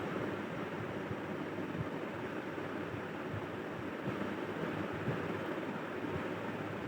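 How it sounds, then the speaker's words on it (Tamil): Paste and ingredients for shark curry sautéing in a pan give a steady, close, unbroken sizzling hiss that runs from start to finish with no talking. "இப்போ அந்த விழுதோடு சேர்த்து இதையும் சேர்த்து வத வதக்கிக்கலாம்"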